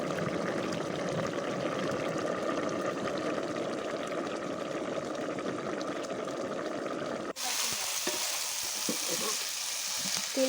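Pumpkin greens fry in mustard oil with fried chilies in a village kitchen, a soft continuous sizzle with light stirring, then a sudden cut to a quieter crackle with scattered pops.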